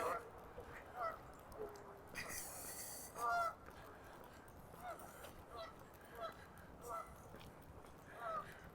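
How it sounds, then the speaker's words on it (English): Geese honk in short repeated bursts from a distance across a lakeside park on a chilly September morning, with faint outdoor ambience and occasional murmured voices between the calls. "you can probably hear the geese over there"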